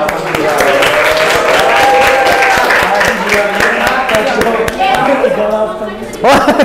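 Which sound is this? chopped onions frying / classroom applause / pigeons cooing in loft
classroom applause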